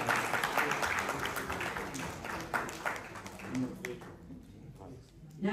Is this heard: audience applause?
yes